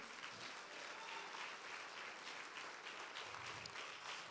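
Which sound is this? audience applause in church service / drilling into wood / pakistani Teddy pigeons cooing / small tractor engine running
audience applause in church service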